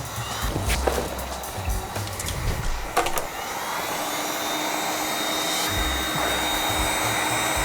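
A heat gun blows steadily as it warms a mini PC to soften the glue holding it together, a continuous airy roar that runs throughout with a few knocks and handling sounds near the start.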